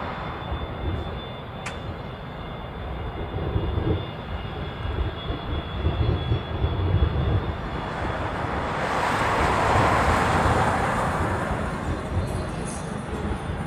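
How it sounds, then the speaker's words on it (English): Boeing 737 airliner arriving at an airport in Hawaii, a steady broadband jet roar that swells toward the end and holds loud, with no talk over it. "737. It has very distinct high pitch sound."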